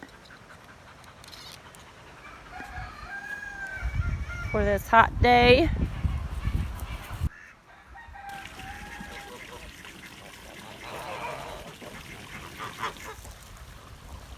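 Farm chickens and geese call out during a hot day, honks and clucks clustering loudly in the middle before fading, while a person talks over quieter stretches.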